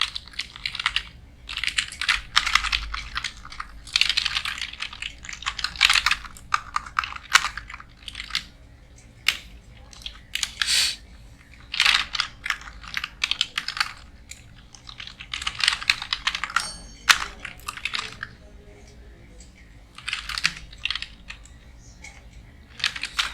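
Names are typed into MS Word on a computer keyboard, with close, quiet bursts of key clicks separated by short pauses and no voices.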